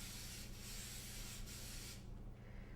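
Cooking oil spray hisses onto a pan in a few short steady bursts, close and fairly quiet, with no talk over it.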